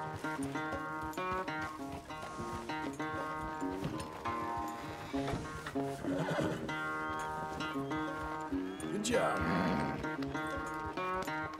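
A horse whinnies loudly twice in the video game Red Dead Redemption 2 over a steady background of musical tones, with faint hoof sounds in between.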